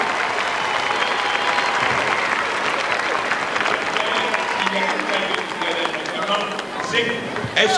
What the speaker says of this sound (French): Alors on les applaudit encore très fort, on les remercie.